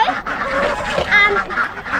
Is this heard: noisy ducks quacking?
yes